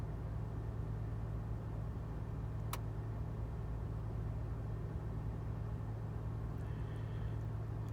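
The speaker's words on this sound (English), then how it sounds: "I don't know if you can hear it, but the car is actually revving." A 2020 Toyota Supra engine idles steadily during an oil level check, a low, constant hum with no clear revving, accompanied by one brief sharp click partway through.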